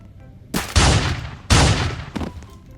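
Two loud, close shotgun blasts from the defense shotgun in a Roblox game, each with a sharp crack and a long decaying boom, followed by a fainter mechanical click.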